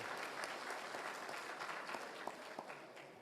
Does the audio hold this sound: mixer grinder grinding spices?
no